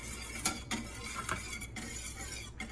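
A whisk scrapes and taps against a pan of béchamel sauce, soft close stirring strokes with a few brief clinks, quiet and steady, with no talking.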